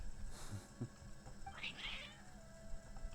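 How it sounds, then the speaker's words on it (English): Cats meow in the Genshin Impact video game, with a few short, fairly faint mews scattered over soft background music. "Your cats seem pretty worked up."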